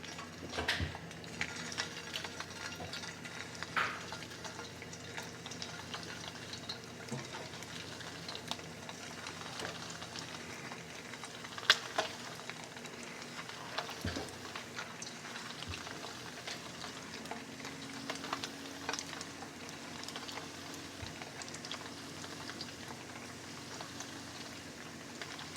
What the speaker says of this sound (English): now we can start frying